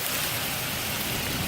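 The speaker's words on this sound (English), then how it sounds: "And now it's hailing, and there's like snow on the roof up there." Hail falling on a roadtrip stop on the California coast, a dense, even patter spread across the clip, fairly faint and steady with no voices.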